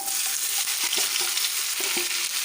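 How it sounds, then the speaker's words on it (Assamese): Okra for bhindi bhujiya fries in hot mustard oil, giving a steady, loud sizzle close by, broken by several short scraping strokes as it is stirred in the pan. "এতিয়া মই ইয়াতে ভেন্দিখিনি দি দিম।"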